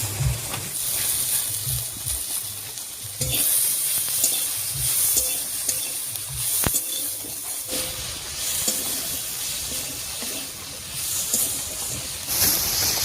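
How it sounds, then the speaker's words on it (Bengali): Spices sizzle steadily in hot oil as they are stirred for an egg curry with potatoes, a continuous close hiss with occasional scraping knocks of the spoon against the pan. "তেলের উপরে সব মশলাগুলো দিয়ে খুব ভালো করে নাড়িয়ে নিয়েছি"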